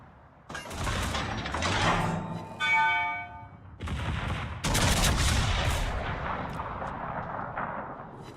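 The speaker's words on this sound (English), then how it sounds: "This guy's shooting HE at me, isn't he?" Naval guns firing HE shells in the World of Warships video game: loud booming salvos and ringing metallic hits in several heavy bursts, with a rumbling tail between them.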